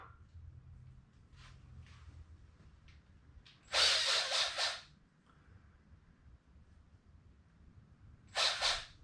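A power drill runs in two bursts, a longer one of about a second and a shorter one later, loud and close against a quiet workshop background while a basic tool birdhouse is being built.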